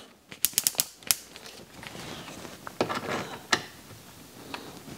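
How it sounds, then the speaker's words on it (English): Hand tool working a very tight fastener loose on an RC car chassis, a burst of sharp clicks and ratcheting ticks followed by scattered scrapes and a few louder knocks, fairly close. "remove the last fastener, which is in there very tight"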